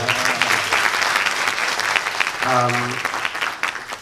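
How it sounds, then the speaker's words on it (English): Audience applause at a Techstars Tel Aviv tech demo day in 2021, a strong sustained clapping with a few voices calling out briefly partway through. "Give her some applause, come on."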